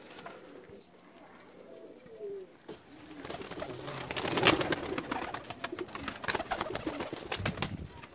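Pigeons on a rooftop in Jeddah coo with soft, repeated low calls, joined by rustling and fluttering that grows busier toward the end, fairly close.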